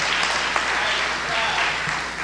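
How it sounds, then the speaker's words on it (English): Audience applause at an evening lecture event fills the whole moment with dense, steady clapping from a large crowd, loud and continuous without a break. "let's give these brothers a round of applause"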